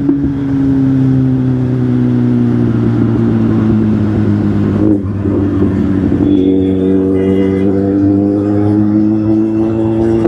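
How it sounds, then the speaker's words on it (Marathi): Road traffic heard from a vehicle on a busy road, with a steady engine drone throughout, pitch shifting midway as it changes speed; no talk. "लय ट्रॅफिक आहे."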